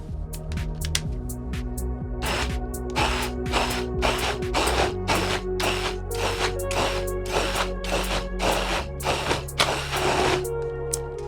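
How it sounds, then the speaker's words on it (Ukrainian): A blender runs loudly and steadily blending berries, its motor pitch shifting in stages, with rhythmic thumping and grinding bursts as the contents churn. "просто взбиваю все це блендером."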